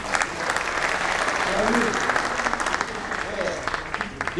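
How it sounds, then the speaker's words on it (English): An audience at a Builders Association of India function in Pune breaks into steady applause, dense clapping that holds for several seconds while voices murmur underneath. "Big round of applause, please, friends."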